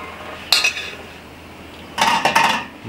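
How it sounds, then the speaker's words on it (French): Melted chocolate and butter are scraped from a pot into a cold dish, with two bursts of clinking metal against cookware, one short and one longer, close and fairly loud. "je transfère le chocolat et le beurre fondu dans un plat froid pour permettre que ça refroidisse plus vite"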